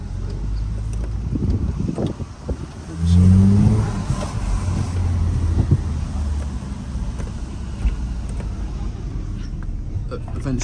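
A Saab 9-3 turbo engine fitted with a pod filter blips briefly at lower revs outdoors, a short loud rise and fall over wind noise. Someone speaks around it.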